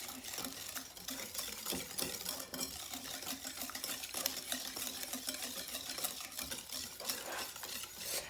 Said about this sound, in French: Et je viens mélanger. Je mélange délicatement.